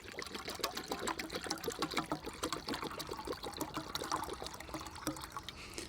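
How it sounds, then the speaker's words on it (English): Water pours steadily into a Jetboil TrailCook 1.2 litre pan, a close, continuous splashing trickle with a rapid gurgling texture and no voices. "let's just get some water in the pan"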